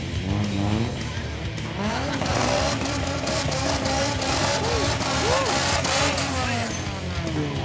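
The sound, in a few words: race car engine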